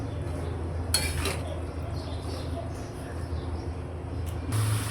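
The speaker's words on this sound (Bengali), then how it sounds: "এখন ওটা সুন্দর করে মাখা মাখা করে ভাজি করে নেব" Long beans and potatoes are stirred in a frying pan, with a few clinks and scrapes of a utensil against the pan over a low steady background hum.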